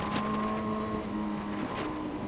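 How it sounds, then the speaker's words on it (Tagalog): A car and a motorcycle pass on the Marilaque mountain road, with steady engine drone and shifting motor tones close by and a rush of wind noise throughout. "May sasakyan, may motor."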